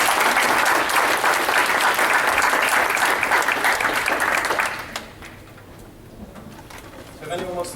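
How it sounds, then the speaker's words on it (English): Audience applause at a public speaking and networking workshop, a loud dense wash of clapping for about five seconds that fades into a quiet room with faint scattered sounds. "So let's round of applause for all of you."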